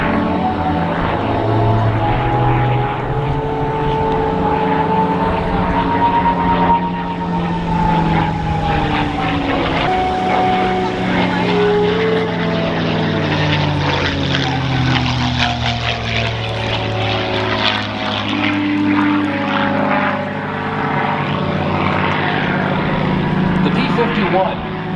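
North American P-51 Mustang propeller fighter flying over the Tampa Bay AirFest at MacDill Air Force Base, its loud engine drone rising and falling in pitch as it passes, with an announcer talking over it.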